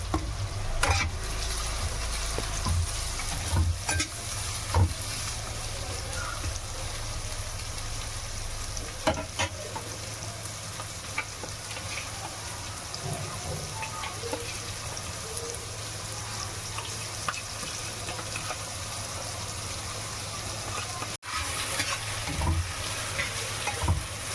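Onion with ginger-garlic paste frying in a wok, a steady close sizzle running throughout with scattered scraping stirs and spatula knocks, no voices.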